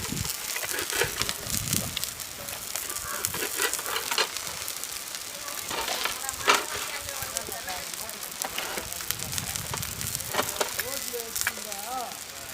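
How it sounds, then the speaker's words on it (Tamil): Scrambled egg frying inside a watermelon shell over an open village fire, with crackling sizzle and occasional stirring scrapes running throughout, fairly close, while someone talks over it. "லாஸ்ட்டில் முட்டை நல்லா வெந்துக்கிட்டு இருக்கு."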